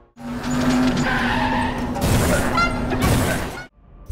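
A clown car chases the player in the horror video game Dark Deception, its engine roaring close with screeching tire skids that swell and cut off after about three and a half seconds.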